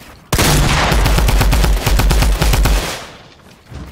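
Rapid automatic gunfire in a 1v1 video game match rattles out in one loud, close, continuous burst lasting under three seconds, then cuts off.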